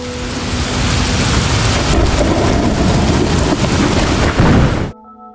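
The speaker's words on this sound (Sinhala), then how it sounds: "මහා හයියෙන් වහින රාත්‍රියක්" Heavy rain pours down at night in a steady, dense roar that stays loud throughout, with faint rumbles mixed in, then cuts off abruptly near the end.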